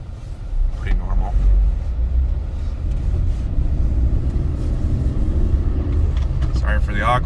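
A 2008 Jeep Wrangler with a manual transmission is driven, its engine and road rumble a steady low drone from inside the cabin, with someone talking over it throughout.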